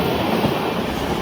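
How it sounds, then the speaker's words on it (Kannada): An express passenger train from Bengaluru to Mumbai runs at speed with a dense, loud, continuous roar of wheels and carriage noise, close and unbroken with no voices. "ನಮಗೆ ದಾರಿ ಕೊಡಲೇಬೇಕು ಅಂತ ಸ್ಪೀಡಲ್ಲಿ ಓಡಿತಾ ಇದ್ದಾನೆ ನಮ್ಮ ಟ್ರೈನ್ನ"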